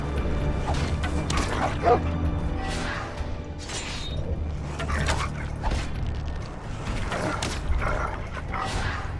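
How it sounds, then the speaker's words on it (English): A dog barks and yips as it fights in a Game of Thrones video game, several sharp barks scattered through a dense, noisy battle mix with thuds and clanks. "I like the dog is fighting too."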